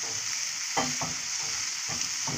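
Sliced bologna sizzles steadily in a hot frying pan while a utensil stirs it, with several distinct scraping strokes over a constant hiss; no talking.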